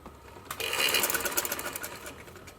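Sewing machine stitching the seam of a dhoti shalwar, a steady close whirring burst that starts abruptly and runs about two seconds before easing off.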